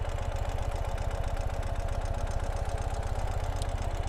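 A 2018 Ural Gear Up motorcycle engine runs in second gear, giving a steady, loud low-pitched chugging throb at an even rapid pulse throughout, with no voices.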